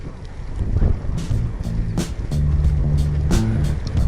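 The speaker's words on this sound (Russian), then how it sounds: "Да, ветер сегодня такой же." Wind noise buffets the microphone during a drive through the rural Nizhneudinsk and Tulun districts on a rainy, sunny day, a steady broadband rush with low engine drone and a few sharp gusty bursts throughout.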